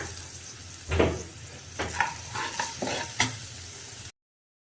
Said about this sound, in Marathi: मिरची तळेपर्यंत आपली छान तळून झालेली आहे